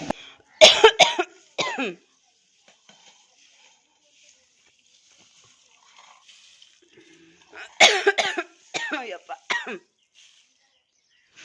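Harsh coughing from someone making homemade chili powder, the spicy powder mixed in a bag, comes in two close, loud bursts of several rapid coughs and throat-clearing, with a quiet stretch between them.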